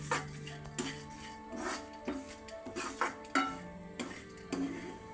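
Dry fruits roasting in a pan for dry fruit laddu, stirred with a utensil: soft rhythmic scrapes and metallic clinks repeat every half second or so, quiet and close, with no talking.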